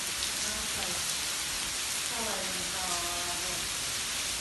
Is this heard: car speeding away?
no